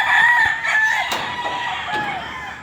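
Roosters crow loudly and close by over steady clucking from chickens at a small game fowl farm in the early morning, with the drawn-out calls overlapping without pause.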